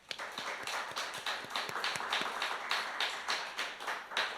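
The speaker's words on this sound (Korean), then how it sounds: "우리 하나님 앞에 좀 함께 영광의 박수 함께 드렸으면 좋겠습니다" A church congregation claps together during a Sunday worship service, a quiet, steady run of rhythmic, evenly spaced claps with no voices over them.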